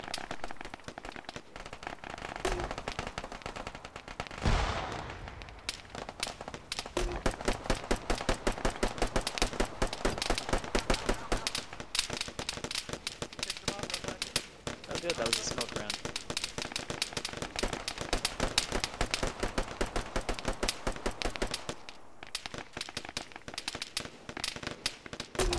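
Gunfire in Arma 3 during an infantry engagement, rapid continuous bursts of shots crackling throughout, mixed with radio-style voices talking.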